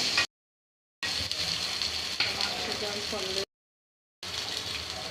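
Ground cardamom, garam masala, nutmeg and black pepper hitting hot oil with frying ginger, garlic and onion, a steady close crackling sizzle broken by a couple of short silent gaps.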